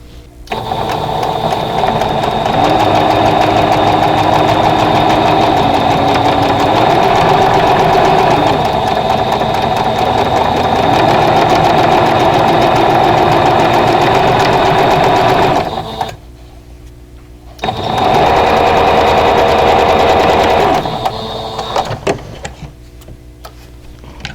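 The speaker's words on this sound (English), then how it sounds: "So I'm going to sew one side first and then I will put this side on" Sewing machine stitching a quilt block seam, a fast steady close mechanical whir and rapid needle clatter that runs for about sixteen seconds, pauses briefly, then sews again for a few seconds before stopping.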